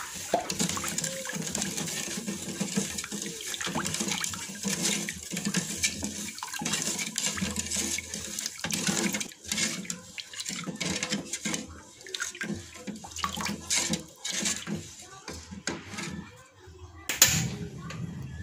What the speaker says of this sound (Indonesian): lalu tambahkan air sebanyak 900 ml